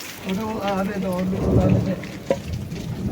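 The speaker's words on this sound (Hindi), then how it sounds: "अरे ओले आ गए रे यहाँ तो हमारे घर के अंदर।" Hail falls heavily during a village rainstorm, making a dense, constant patter that fills the whole scene while someone talks over it.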